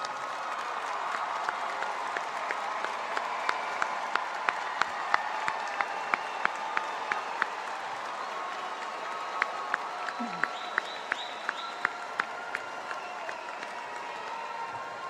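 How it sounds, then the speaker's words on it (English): A high school graduation audience applauding parents: faint, distant, sustained clapping in a large hall lasting many seconds, with scattered sharper individual claps standing out above the soft wash. "would you please help me in recognizing and thanking your parents with a round of applause?"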